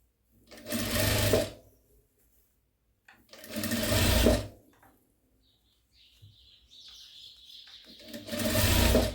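A sewing machine stitches around the edge of a jute placemat in three loud bursts of rapid whirring, separated by quiet pauses with faint handling sounds.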